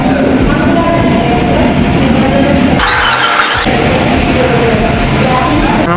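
An MG rake train pulls into a platform at Thiruvananthapuram railway station, creating a loud, steady rumbling roar with a brief harsh burst of hiss or squeal midway.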